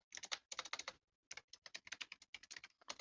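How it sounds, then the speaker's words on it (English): Rapid bursts of clacky computer-keyboard typing, close and fairly loud, in quick clustered strokes with a short pause before resuming; no voices. "Good old clackety keyboard."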